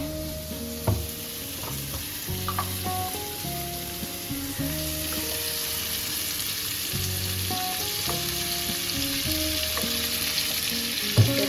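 Oil frying in a pan makes a continuous, even sizzle for the whole stretch, with a few soft stirring knocks and scrapes near the start and middle, and no voices.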